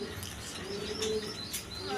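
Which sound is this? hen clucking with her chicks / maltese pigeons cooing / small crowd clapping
maltese pigeons cooing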